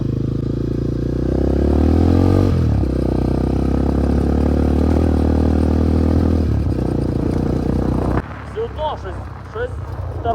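Kovi Advance 250 dirt bike (2025) riding offroad while being broken in, with a loud, rough engine and exhaust drone plus rattling and clatter, ending abruptly as someone talks over quieter background.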